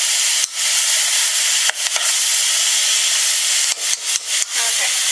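Butter melts in a hot pan for macaroni and cheese, giving a steady bright hiss and sizzle broken by a few brief dips and soft clicks.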